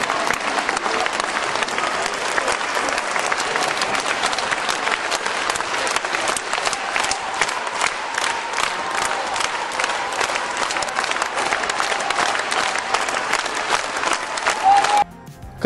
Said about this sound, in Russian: Давайте просто похлопаем.